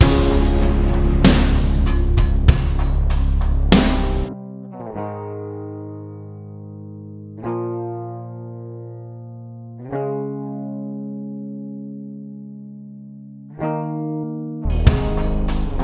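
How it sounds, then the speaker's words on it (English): A clean, unprocessed electric guitar meant for later distortion, played with no amp or effects in a hip hop beat, follows a short drum passage. Sustained chords ring out one at a time every few seconds and decay into silence. "Let me play back the distorted guitars just as they were sent to me."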